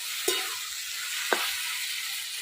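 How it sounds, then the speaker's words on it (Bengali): Bottle gourd sautéing in a pan for a village-style Bengali curry gives a steady, close sizzling hiss, with two brief scraping clicks from stirring and no talk. "লাউটা সুন্দরভাবে কষায় নেব।"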